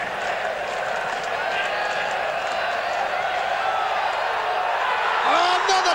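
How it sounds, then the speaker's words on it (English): Cricket crowd at an Auckland test match against Australia roaring continuously as Richard Hadlee bowls, a broad sustained wall of cheering close by with a brief whoop rising near the end. "I don't think I've ever heard a cricket crowd like it"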